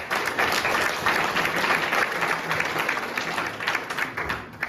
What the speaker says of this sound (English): So big applause for all of you.